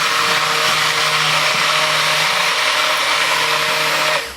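A hand blender whirs steadily through a homemade soap mixture, a loud high-pitched motor whine held for several seconds that cuts off abruptly at the end.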